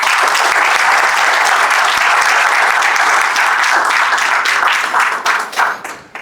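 A large crowd at a religious freedom summit in Santander, Colombia, applauds a speaker with loud, dense, sustained clapping that carries steadily before thinning out and fading at the end.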